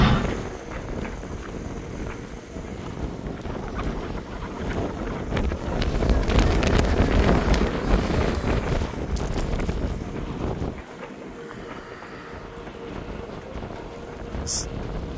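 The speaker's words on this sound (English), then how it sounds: "Gusting wind is really, really challenging." Strong gusting wind buffets a boat held broadside to the breeze, roaring loudly into the microphone and swelling to a peak midway before easing to a lower, steadier rush, with faint voices underneath.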